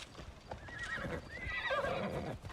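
A horse whinnies loudly in a long, wavering call while hooves clop unevenly underneath, in Assassin's Creed Shadows.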